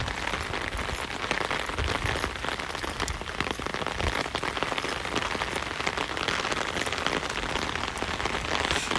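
Heavy rain pours down in a dense, continuous hiss of drops pattering on surfaces, loud and close, with no voices.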